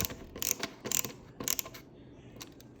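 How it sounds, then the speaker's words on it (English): A screwdriver turns screws with a few sharp mechanical clicks close by. The clicks come in short rhythmic bursts over about three seconds, with no one talking. "hopefully using a screwdriver will help"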